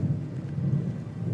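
A deep rolling rumble of thunder mixed with rain in the video game Crimson Desert, a dense, heavy low roar that stays loud and continuous throughout.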